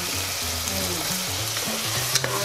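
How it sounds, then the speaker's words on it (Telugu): Ghee sizzles steadily in a hot pan while cooking mutton, a dense continuous frying hiss with a brief sharper crackle near the end and no talking. "ఇప్పుడు మనం ఏం చేద్దామంటే కొద్దిగా నెయ్యి వేసుకుందాం."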